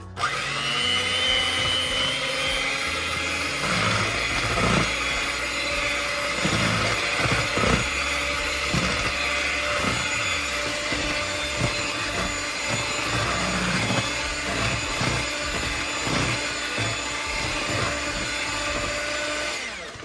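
An electric mixer beats cake batter with salted butter for a pineapple bundt cake. It drones steadily and loudly the whole time, with uneven knocks and scrapes as the beaters hit the bowl.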